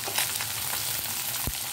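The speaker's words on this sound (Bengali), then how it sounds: "তেলে যদি মাছটা ভাজি, মাছটাও খুব মচমচে হয়" Flour-coated kajli fish fry in hot oil, giving a steady, close, loud sizzle with a brief scrape midway.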